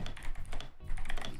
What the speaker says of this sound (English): I'm just typing out some diggly-doos.